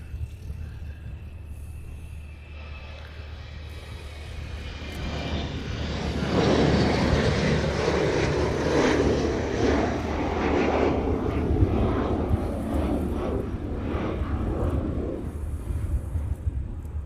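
A Boeing 717 airliner's jet engines roar from a distance, the sound swelling around the midpoint and holding steady as the aircraft passes, with wind buffeting the microphone throughout.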